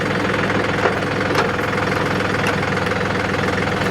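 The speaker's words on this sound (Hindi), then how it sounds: "ये देखो गियर शिफ्टिंग चेक करो आप इसकी।" Mahindra 275 DI tractor engine running through a gear shift, a steady, loud diesel rumble with a knocking rhythm and a couple of faint clicks, with no voices over it.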